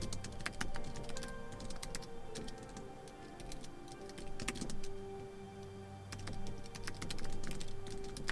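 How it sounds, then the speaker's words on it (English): Rapid typing on a computer keyboard, a dense run of close, clicky keystrokes with brief pauses, steady at moderate level over a faint background hum. "I brought a keyboard in."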